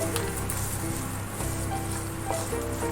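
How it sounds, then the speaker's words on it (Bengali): Chopped ginger fries in a pan, a close, steady crackling sizzle that continues without a break. "কিছুটা আদা এরকম কুচি কুচি করে দিয়ে দিচ্ছি, আদাটা ভেজে নেব।"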